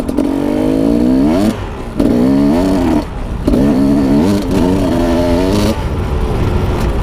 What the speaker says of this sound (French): Bon la moto est froide, j'espère que ça va pas faire blablabla en plein milieu de la montée.